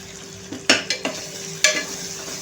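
Turmeric, chili powder, onion masala and goda masala fry with tomatoes in a pan under a soft, low sizzle. A spoon stirs and scrapes a few distinct times, and no one speaks.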